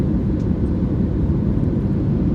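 Steady, loud, low engine roar of a passenger airplane in flight, heard from inside the cabin as a constant drone with no talking.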